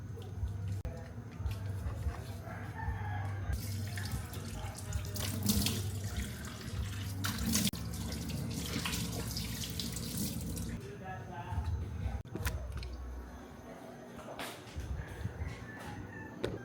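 Tap water runs steadily from a faucet into a small bathroom sink while someone washes their face, a continuous splashing stream with brief pauses and some faint background noise.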